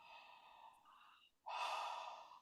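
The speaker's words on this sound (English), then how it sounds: "Pull that breath in." A deep breath drawn in during a voice exercise, a long airy inhale that pauses briefly and then swells louder, close and quiet with no talking.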